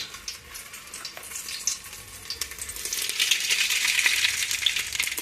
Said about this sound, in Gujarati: આપણું તેલ ગરમ થઈ ગયું છે, તો એમાં નાખી દઈએ આપણે રાઈ.